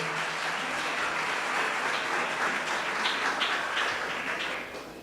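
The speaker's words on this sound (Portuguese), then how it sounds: "Dê uma salva de palmas para Jesus." A congregation claps during a church worship service, a sustained wash of applause with no voices over it that softens slightly as it ends.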